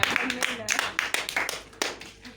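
A church congregation claps hands in a quick, uneven burst of sharp slaps, fairly close, with voices mixed in among the claps.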